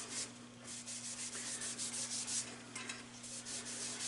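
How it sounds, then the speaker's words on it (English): Sandpaper at 600 grit rubs against a dyed wooden salad bowl spinning on a lathe, a steady close hiss pulsing with hand strokes over the low lathe motor hum. "So I'm gonna sand this again at 600 grit."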